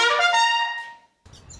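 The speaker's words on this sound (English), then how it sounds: "If you record in your bathroom, it'll sound like this." Singing voice recorded in a reverberant bathroom, a sustained sung phrase whose tail rings on in the room's echo before a short, noisy breath-like sound follows.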